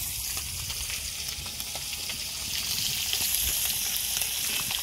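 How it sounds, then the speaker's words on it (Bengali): Fresh river fish such as foli and nandai fry in a pan in a village kitchen, giving a steady crackling sizzle that swells slightly louder partway through, with no talking. "এই যে মাছ ভাজা নিতেছি।"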